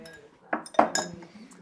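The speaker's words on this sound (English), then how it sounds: "pour over the ice" Ice cubes clink against a rocks glass as a stirred foraged cocktail is poured over them, a few quick close chinks over a short pour, with no talk.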